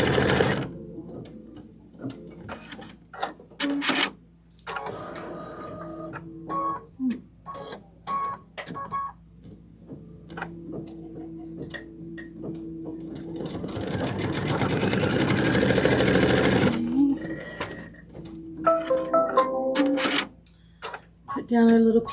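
Domestic sewing machine stitching a placement line on fabric for small pink appliqué pieces, a steady whirring run of several seconds amid short bursts of stitching and clicks, with someone talking in between.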